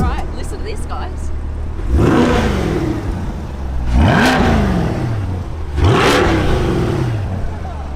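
A new Chevrolet Corvette Stingray engine revs hard three times, each rising roar swelling then falling back to a rumbling idle, close by.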